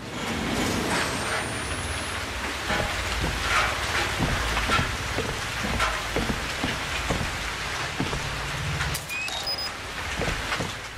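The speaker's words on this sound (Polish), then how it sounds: "Cały czas pada krwawy deszcz" Blood rain falls steadily in the horror video game Outlast 2 inside a mine, a constant patter of drops on surfaces with scattered louder splashes and a brief whistling tone near the end.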